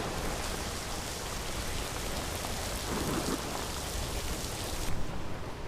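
Steady rainfall in the fantasy game Skyrim, a dense, even hiss of drops pattering on surfaces, continuous and fairly loud throughout with a faint swell midway.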